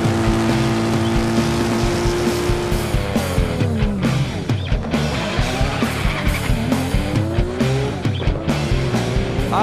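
A stripped Nissan GT-R with a built HKS turbo engine does burnouts at a drag racing event, its engine revving and rising in pitch over loud tire squeal and skidding, close and sustained.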